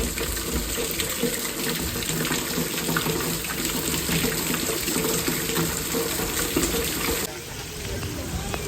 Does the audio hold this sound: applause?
no